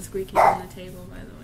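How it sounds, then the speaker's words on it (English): A dog lets out one short bark close by, partly under a person talking indoors. "And that's the dog."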